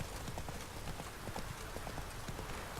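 Horse hooves clip-clopping steadily in The Witcher 3 video game, a continuous rhythmic trot of Roach over a constant background bed.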